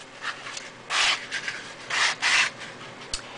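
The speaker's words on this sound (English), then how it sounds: "So I just basically sand it like so." Sanding the cut edge of a cardboard paper towel roll by hand, producing short scratchy rubbing strokes in an uneven rhythm, close and fairly quiet, with a few louder passes.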